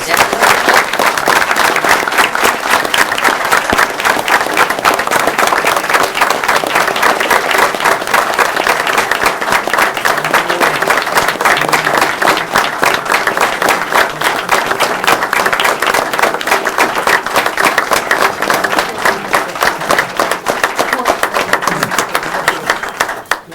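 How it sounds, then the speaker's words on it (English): A city council meeting crowd gives a sustained, dense round of applause, loud and steady for over twenty seconds before tapering at the very end. "One more round of applause."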